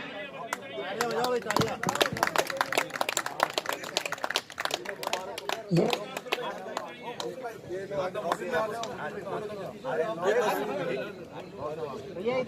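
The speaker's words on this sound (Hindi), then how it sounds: "तालियां जोर से बजनी।" A crowd at a Rajasthan pigeon tournament in Rajsamand claps loudly and steadily over lively chatter and voices talking close by.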